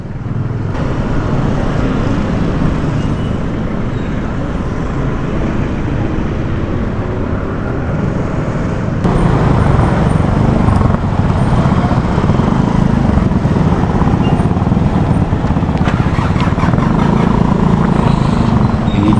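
Steady road traffic on a street in Naga, a continuous loud engine rumble and tire roar that swells slightly partway through, with motorcycles and cars passing close.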